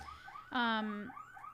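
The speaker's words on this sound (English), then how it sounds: "we have an alarm going off in the building right now" An alarm goes off inside a building, sounding as a rising and falling electronic siren with a steady wailing tone between the sweeps. It is moderately faint and carries on throughout.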